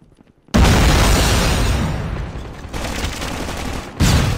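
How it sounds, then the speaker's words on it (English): A loud grenade blast erupts in a video game death match, its burst rumbling on for a few seconds before a second sharp bang cuts in near the end. "Grenade out!"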